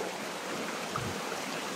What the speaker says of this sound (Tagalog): Malakas pa rin pala yung tubig.